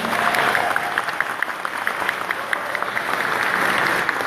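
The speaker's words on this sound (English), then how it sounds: "If you guys, by round of applause, let her ask a question." Town hall audience applauding, a steady dense wash of clapping from a crowd filling the room, continuous and fairly loud throughout.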